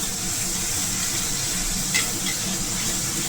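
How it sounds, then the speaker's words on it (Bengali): Spice paste of ground mustard and cumin frying and being stirred in a pan for a mourala fish curry with taro, a steady close sizzle with a faint scrape partway through. "তো মশলাটা ভালো করে কষিয়ে নেব"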